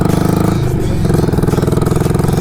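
A Harley-Davidson Sportster 48 motorcycle engine runs close by with a steady, throbbing idle and a brief throttle blip near the start, the loping rhythm continuing loud and unbroken throughout.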